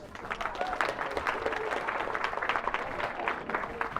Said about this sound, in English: let's get another round of applause to anyone who kind of helped beforehand too